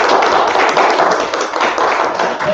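Audience applause at a fundraising event with a silent auction: dense, steady clapping from many hands filling the room, loud and sustained throughout with no pauses.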